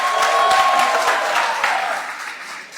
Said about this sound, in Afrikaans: kan julle vir julleself 'n lekker hande klap gee